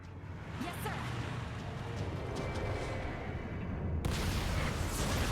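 Explosions and gunfire from the action video game Metal Gear Rising: Revengeance, a dense, continuous roar of blasts and shots that grows brighter and harsher near the end.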